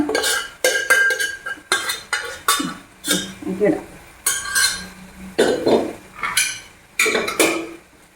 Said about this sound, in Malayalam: ബീഫ് ഇടാം നല്ല നെയ്യും ഒക്കെ ആയിട്ടുള്ള ബീഫ് എല്ലൊക്കെ ആയിട്ടുള്ള ബീഫാണ്